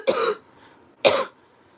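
A person coughs twice, each a short harsh burst close to the microphone, about a second apart, with near silence between them.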